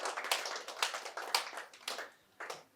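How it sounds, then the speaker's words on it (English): A small group claps in sparse, uneven bursts at a placement-honouring ceremony, each clap sharp and close, tapering off after a few seconds with quiet gaps between. "So I want everyone to give a round of applause"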